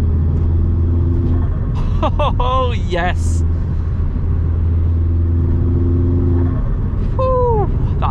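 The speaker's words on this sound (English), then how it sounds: "That noise is addicting." A Vauxhall Astra VXR engine drones steadily from inside the car under way, with turbo whistles and fluttering blow-off chirps breaking in twice, while someone speaks briefly over it.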